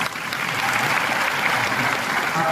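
Steady audience applause fills a hall at a Marwari diaspora gathering in Jodhpur, dense and continuous clapping throughout with no voices on top.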